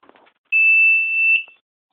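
An Aims 3000 watt power inverter gives a single loud, steady high-pitched beep of about a second as it switches on, after a few faint clicks.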